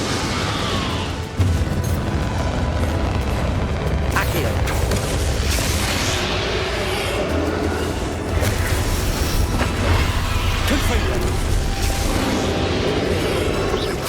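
The Confringo blasting spell in the video game Hogwarts Legacy, cast during a boss fight: loud crackling bursts and booms over dense clashing battle noise and music, sustained throughout with repeated sharp impacts.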